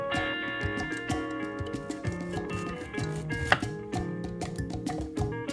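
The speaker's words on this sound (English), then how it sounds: "So I will start off by cutting the top." Steady knife chopping on a board as the top is cut off a green plantain being prepared for plantain fry or chips, a run of close, crisp rhythmic taps with one sharper knock near the middle, no talk.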